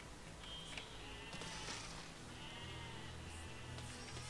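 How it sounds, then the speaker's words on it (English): Sheep in the video game Besiege bleat faintly a few times over a low, steady background rumble. "Sheep!"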